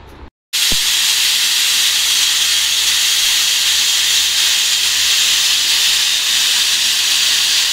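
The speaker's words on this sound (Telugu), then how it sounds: "కుక్కర్ విజిల్లు అయితే 3 విజిల్లు వచ్చే వరకు ఉంచుకోవాలండి." A pressure cooker releases steam through its whistle while chicken curry or vegetable fried rice cooks. After a short silence, a loud, steady jet of hissing steam starts suddenly and keeps blowing, close and unbroken.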